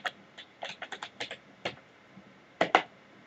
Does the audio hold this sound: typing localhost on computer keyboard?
yes